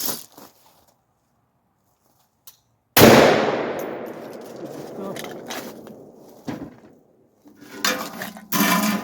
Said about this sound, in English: I'm taking just 1 shot with Tula 308